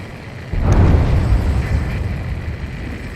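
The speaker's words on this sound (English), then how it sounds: "A huge explosion just went off underwater." An underwater explosion in the Ace Combat 7 video game: a sudden deep, muffled boom swells and then rumbles on for a few seconds, heavy low-end and no speech over it.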